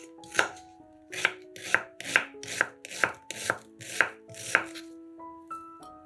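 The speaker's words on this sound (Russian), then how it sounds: "Одну луковицу нарезаем кубиками." A knife chops an onion into cubes on a cutting board, about nine crisp, evenly spaced cuts, close and clear with no talking.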